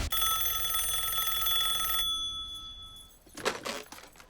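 A phone rings with a bright electronic tone that sustains and then fades out, followed by a brief rustle or handling noise near the end, with no talk.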